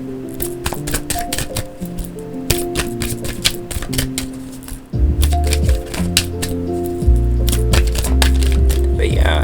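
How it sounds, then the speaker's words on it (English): Two tarot card decks are shuffled by hand, giving rapid rippling riffles and sharp clattering card snaps in close, loud bursts with short pauses between them, no voice heard. "Gonna get these two shuffled up"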